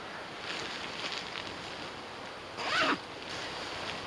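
A single quick zipper pull on a Jerven Fjellduken bivvy bag rasps close by for under a second, set against steady outdoor wind noise.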